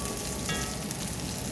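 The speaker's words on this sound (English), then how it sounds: "So let that kind of saute for a little bit." Yellow onion sautéing in a pot, a soft, even sizzle running steadily throughout, fairly quiet with no voices.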